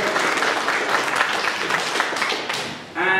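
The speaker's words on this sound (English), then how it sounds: "Pause for a round of applause." A conference audience at a bell-ringing presentation breaks into sustained applause, dense and even, before the clapping thins out and a voice begins at the end.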